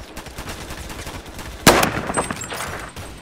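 Rapid gunfire crackles in an online video game, with a sharp loud shot near the middle followed by several quicker, fainter pops over a continuous background of game noise.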